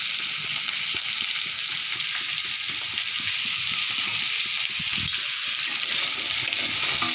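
Food fries in a pan with salt and turmeric for a drumstick and potato dish, a dense crackling sizzle under busy stirring, close and fairly loud, with no speech.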